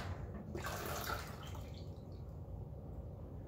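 Homemade tomato juice pours off with a steady liquid splash and trickle, loudest in the first second and then settling into a softer, continuous run. No one talks.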